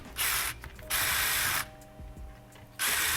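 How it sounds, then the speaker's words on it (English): A ratchet clicks while gun grip screws are tightened during assembly of a Sabre Apex Prime. Bursts of buzzy mechanical ratcheting alternate with quieter pauses of small clicks, close and fairly loud, with no talking. "I'm gonna also make sure that my grip screws here are nice and tight."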